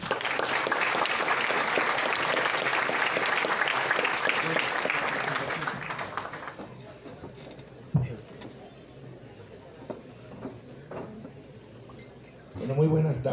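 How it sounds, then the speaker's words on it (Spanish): Strong audience applause welcoming an economist to a panel discussion on dollarization and central banking, loud and dense for several seconds before fading into room noise with scattered clinks and a brief voice near the end. "le recibimos con un fuerte aplauso"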